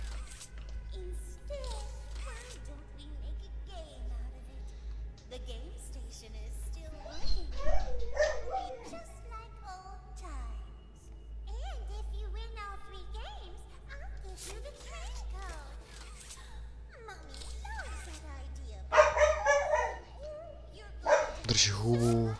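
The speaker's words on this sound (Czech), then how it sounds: "Aby nerušil pes na videu." A dog barks and yips indoors in the background, several scattered bursts over a long stretch, partly under people talking and game sounds.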